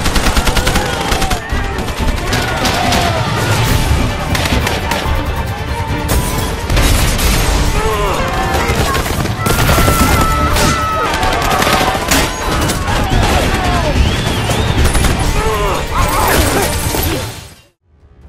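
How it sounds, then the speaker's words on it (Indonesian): Sustained, loud gunfire and explosions fill a film battle scene where rebels and soldiers shoot at fleeing civilians: dense automatic bursts, booms and crashes pile together with music for most of the length before cutting off abruptly. "kelompok pemberontak maupun pihak militer negara tersebut mulai menembaki warga yang berlarian mencari perlindungan"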